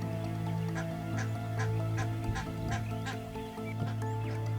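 A mother duck in the South African wild calls loudly and persistently, a string of repeated honking quacks over steady outdoor background noise.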